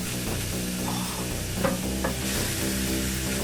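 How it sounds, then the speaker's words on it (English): Ground meat frying in a pan with mushrooms and onions gives a steady, close sizzle, with a few scraping stirs of a utensil breaking up the meat and no talking. "We want to cook that while breaking it up into little pieces so you get an even mixture of mushrooms, onions, and meat."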